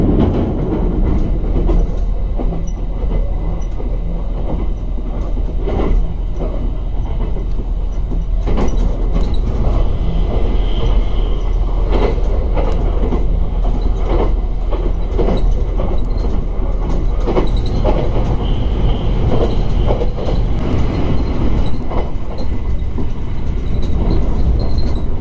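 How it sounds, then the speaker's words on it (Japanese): Kamome limited express train running through Uzutsugawa Station on the electrified line, with a loud, steady rumble of rails and wheels throughout and rhythmic clicks and brief squeals, close and continuous. "列車は宇都津川駅を通過中です。"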